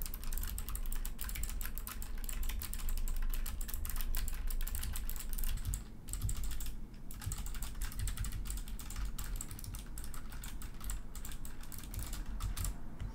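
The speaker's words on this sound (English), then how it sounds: "I'll just do a tiny bit of keyboard typing here." Computer keyboard typing picked up by a HyperX QuadCast microphone, a fast, continuous patter of close key clicks with a brief pause midway and no talking.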